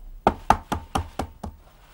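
An egg tapped against a hard edge to crack its shell, six sharp close knocks in quick succession, the first two loudest, then fading, with no voices.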